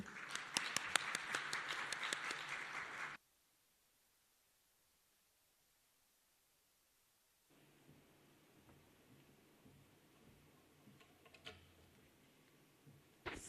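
Applause from a conference audience at an emergency medicine broadcast, loud dense clapping for about three seconds before cutting to silence, then faint room noise and scattered sounds.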